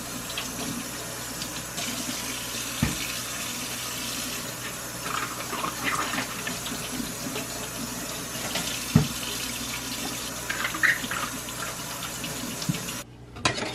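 A kitchen tap runs steadily while bok choy is washed for a Jamaican home-cooked meal, a continuous rushing flow with occasional splashes and knocks, close and moderately loud, no talking.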